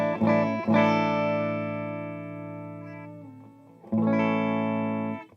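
An electric guitar plays through the vibrato channel of a modified Frugal Amps Blackface Deluxe Reverb amp. Two sustained, ringing chords are struck, each decaying slowly, with a brief quieter change between them.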